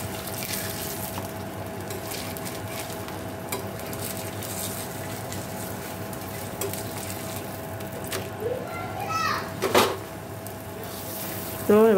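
A cauliflower paratha fries slowly in a pan, a soft, continuous sizzle over a low steady hum, with a few brief squeaky scrapes near the end.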